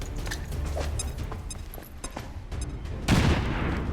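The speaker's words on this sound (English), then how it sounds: "Grenade out." A grenade detonates in XCOM 2 as a loud broadband blast near the end, following a run of sharp gunfire cracks and thuds in a battle scene.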